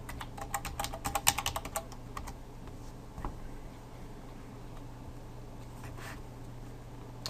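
Fingers type quickly on a computer keyboard up close, a dense burst of key clicks followed by sparser taps and a faint steady background hum.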